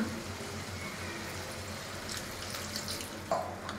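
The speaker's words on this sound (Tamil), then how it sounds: "சும்மா லைட்டாக தண்ணி ஊற்றினா போதும்" Water pours steadily into a cooking pan of pepper chicken with a soft splashing hiss, fairly faint, with a brief clink near the end.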